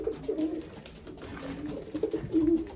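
Racing pigeons cooing inside their loft, soft repeated low coos in several short bursts, fairly close and quiet, with no voices.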